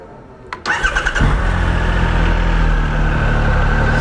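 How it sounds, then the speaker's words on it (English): A 2018 Triumph Tiger 1200 XRT motorcycle engine with a new exhaust cranks briefly, catches and roars to life, then settles into a steady, loud, rumbling idle close by. "All right, we will start this bike up here."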